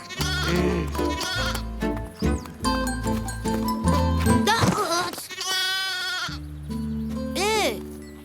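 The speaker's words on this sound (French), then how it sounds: "Ça, c'est une gentille brebis, ça." A ewe bleats several times in a cartoon setting, her wavering calls loud and close over a busy musical soundtrack, with some talking around them.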